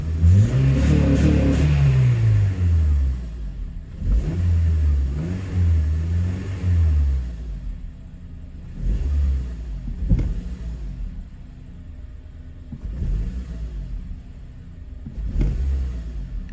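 Warmed-up 2004 Honda Accord engine with fresh spark plugs revved repeatedly, climbing in pitch to the soft limiter and bouncing there before dropping back, several rev bursts separated by idle, recorded nearby with no voices.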